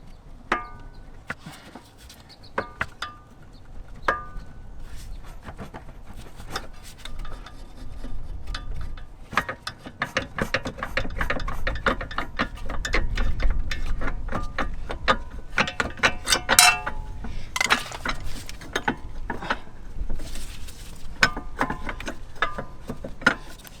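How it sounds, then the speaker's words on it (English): Screwdriver prying and clicking the air strut bracket down on a Range Rover L405 suspension, a close run of sharp metallic ticks, scrapes and ratcheting clatter, denser and louder in the middle, with no talking. "Using a screwdriver, drop down the bracket."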